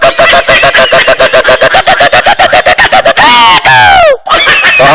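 A performer imitates a hen playing kabaddi, voicing loud, rapid, rhythmic clucks in a steady chant-like run, then rising squawks and shrieks near the end, all made by a human voice.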